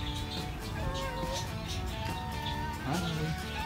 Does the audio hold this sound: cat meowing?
yes